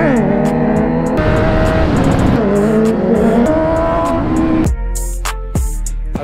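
Kawasaki Z900 motorcycle engine revving hard and loud up close, with repeated rising and falling throttle blips and sharp pitch sweeps across the whole stretch, no talking.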